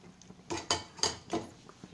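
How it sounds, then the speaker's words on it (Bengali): Rice and spices stirred in a pan for mutton biryani, heard as four or five short metallic scraping and clattering strokes in an uneven rhythm, close and moderately loud, with quiet gaps between them. "মশলার সাথে চাল মিশিয়ে নেব। যতক্ষণ চাল ভাজা না হবে ততক্ষণ ভাজতে থাকবো।"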